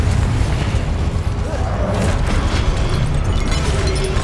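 Confringo blasting curse explosions in the Hogwarts Legacy video game, a dense, loud, rumbling barrage of booms and crackling bursts that runs continuously and stays heavy in the low end.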